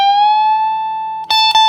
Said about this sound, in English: we're gonna do a whole step bend